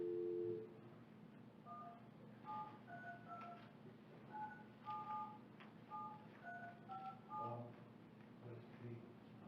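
Telephone keypad tones beep in a quick irregular sequence as a number is dialed into a city council meeting's speaker line, faint and low with murmuring voices in the room.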